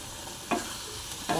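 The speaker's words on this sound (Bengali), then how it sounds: "এখন আমি খানিকক্ষণ নাড়াচাড়া করতে থাকবো।" Spices fried with tomato paste in a pan for a broccoli dalna are stirred twice, each a short scraping stir over a low steady sizzle.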